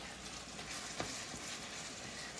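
Hamburger meat frying in a pan for spaghetti sauce gives a faint, steady, hissing sizzle with one brief clack partway through.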